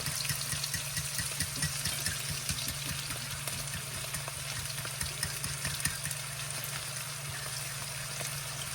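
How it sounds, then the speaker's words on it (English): Beaten eggs hitting a hot pan for loaded fried rice, a steady close sizzle and crackle that runs continuously under a low hum, with no talking. "so we're gonna start pouring these eggs in"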